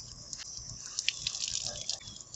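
Water from a faucet runs and drips over a freshly degreased pot, a steady close splashing trickle with brief brighter spatters, no voices.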